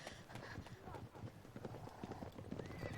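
Many horse hooves clip-clop in a rapid, overlapping gallop in the video game Witcher 3, about seven horses, with a whinny and some voices mixed into the steady rumble.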